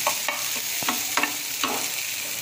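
Prawn thokku fries in a pan: a steady, close sizzle runs throughout, broken by several sharp scraping strokes of a spoon stirring the prawns.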